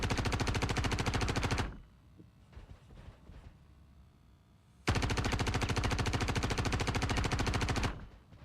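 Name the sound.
gunfire in video game Star Citizen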